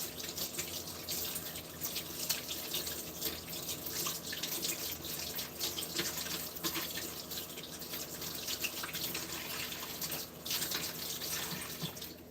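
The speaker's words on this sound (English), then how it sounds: "I'm going to wash off my hands." Tap water runs steadily into a sink as hands are washed, a continuous close splashing hiss with no talk over it.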